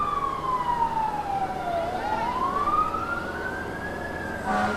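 Engine 23 of the Rolling Fork Fire Department sounds its wailing siren during the 2017 Iron Horse Festival parade, a loud tone that sweeps slowly down and back up over a constant outdoor rumble.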